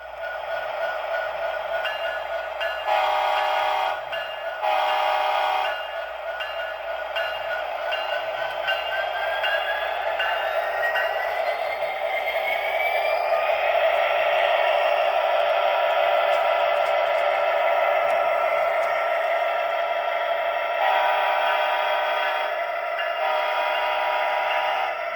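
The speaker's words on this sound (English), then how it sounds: "So let's turn on the sound and let it run down." A Bachmann diesel model locomotive with a DCC sound decoder runs along, giving a steady, fairly loud engine drone with a recurring clatter and brief bursts throughout, alone without talk.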